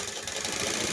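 Sewing machine stitching a seam on a small Krishna doll dress, a close, rapid continuous whir for about a second with no talk.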